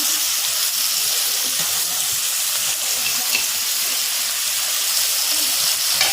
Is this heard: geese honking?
no